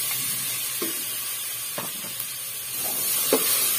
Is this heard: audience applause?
no